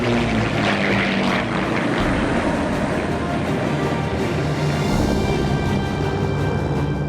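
A de Havilland Mosquito, the wooden Second World War propeller aircraft, drones past with a steady, loud, broad engine roar that holds for the whole stretch, with no voices over it.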